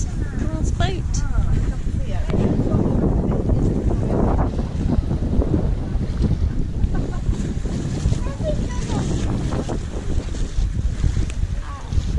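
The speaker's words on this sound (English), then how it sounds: "Here it is, the last boat." A small ferry boat arrives at Brownsea Island amid strong wind buffeting the microphone and water churning, a steady loud outdoor wash of engine and waves with people talking over it.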